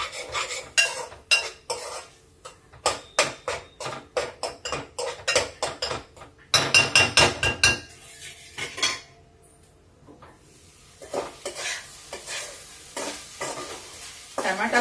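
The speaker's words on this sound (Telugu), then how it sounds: "ఇది కొంచెం ఒక 2 నిమిషాలు పచ్చి వాసన పోయేదాకా ఇట్లా బాగా కొంచెం తిప్పండి" Tomato rasam with jaggery is stirred in a pan, a utensil clacking and scraping against the metal in quick bursts over a soft sizzle, with brief pauses between rounds.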